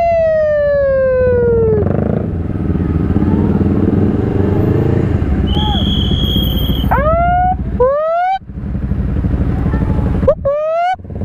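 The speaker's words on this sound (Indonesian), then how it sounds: "Perang anjing, perang sirine." Several police-style sirens whoop and yelp in short rising sweeps amid a Jakarta traffic jam, loud and close over a constant rumble of motorcycle engines, with one steady high tone briefly cutting in.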